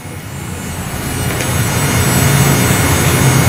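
A small electric water pump for an Arduino-timed plant watering system runs with a steady low motor hum that grows slightly louder and settles into an even drone over a constant hiss.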